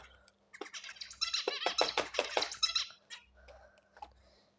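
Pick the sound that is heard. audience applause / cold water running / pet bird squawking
pet bird squawking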